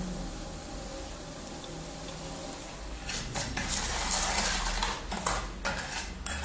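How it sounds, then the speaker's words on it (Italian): A spoon stirring honey into a coarse-salt body scrub mixture in a bowl: quiet at first, then a few seconds of gritty scraping and sharp clinks against the bowl, close and uneven. "Mescoliamo il tutto."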